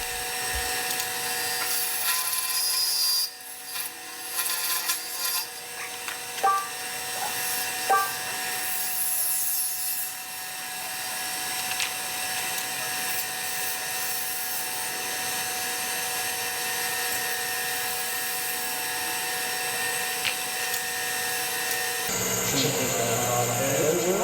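A wood lathe spins while a tool turns a tenon on the end of a finial, giving a steady motor hum with scraping, rubbing cuts that come and go, loud at first and then continuing more evenly before stopping.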